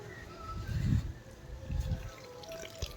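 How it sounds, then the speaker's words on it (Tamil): A cow urinating onto the ground in a village farmyard during a Pongal festival, liquid splashing and trickling in two surging bursts, fairly close and moderately loud, with no talk over it. "உச்சா விடுது மாடு"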